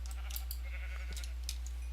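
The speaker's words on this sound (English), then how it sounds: "I'm going to go ahead and kill all of these sheep" Sheep bleat in a Minecraft-style video game, with soft, fairly faint calls scattered over a steady low background hum.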